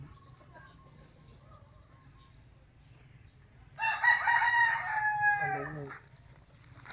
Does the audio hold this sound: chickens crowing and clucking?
yes